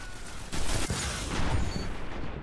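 Dense, continuous gunfire in the video game Destiny, a loud sustained fusillade of rapid shots with a sharp burst near the start, filling the whole stretch with no talk over it.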